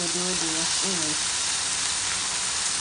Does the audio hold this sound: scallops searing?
yes